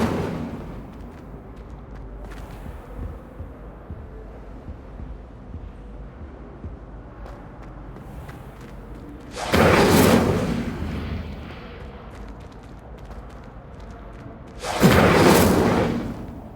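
Spell-casting explosions from the video game Hogwarts Legacy: two loud, broad bursts several seconds apart, each roaring briefly before fading, set against a steady low rumble of game ambience.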